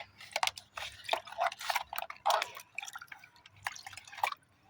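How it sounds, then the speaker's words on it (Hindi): Banana peel water poured onto potted oleander plants, heard as close, uneven splashes and trickles in irregular bursts, fairly quiet, with no talking. "एक केले के छिलके का पानी है लिक्विड, इसे मैं डालती हूँ ज़रूर से अपने कनेर वगैरह में"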